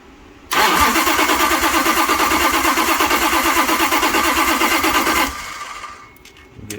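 A 1970s Pro Stock 426 Hemi with sixteen plugs, dual distributors and twin Dominator carburetors cranks, then bursts into a loud, steady, chattering idle lasting several seconds before cutting off abruptly, heard close and alone.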